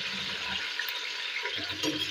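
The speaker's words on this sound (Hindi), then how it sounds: "अब मैं इनको तेज़ आंच पे जो है ना फ्राई करूँगी।" Eggplant frying in a pan with cumin and green chilies over high heat, a steady close hiss and sizzle with a few faint stirring scrapes.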